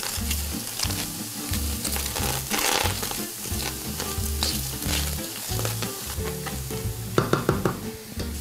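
Napa cabbage, shrimp and tofu stir-frying in a hot pan, loud continuous sizzling with rhythmic scraping and tossing strokes, then a few sharp clinks of utensil on pan at the end.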